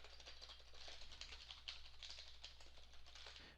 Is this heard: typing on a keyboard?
yes